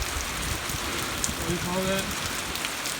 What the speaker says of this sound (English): it's still raining off and on